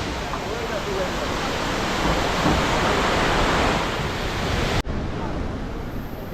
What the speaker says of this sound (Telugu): అండ్ ఇక్కడ ఒకసారి చూడండి వాటర్ ఫాల్,